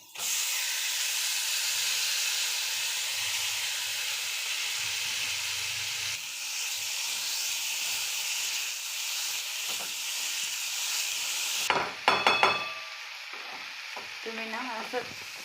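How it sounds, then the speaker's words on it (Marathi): Washed dried prawns fry in a pan with a loud, steady sizzle and hiss for most of the stretch, then scraping stirs and clinks of a spoon against the pan near the end. "धुवून घेतलेलं सुकट टाकून घेऊया त्याच्यात।"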